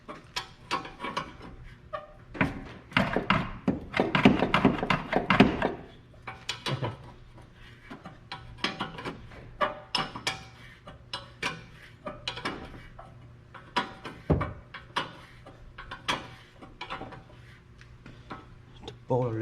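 Ratchet clicking in repeated bursts while loosening a stuck bolt on the ball joint of a 2004 Lexus GS300 during upper control arm replacement, close and fairly loud, with someone talking intermittently.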